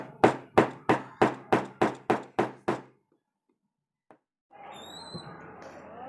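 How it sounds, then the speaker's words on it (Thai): A pointed cross-head screwdriver tip is tapped into a container to punch a hole, giving nine evenly spaced, crisp knocks in quick succession, then quiet and a faint rustling. "ก็ค่อยๆตอกลงไปนะครับ ไม่ต้องตอกแรงมาก"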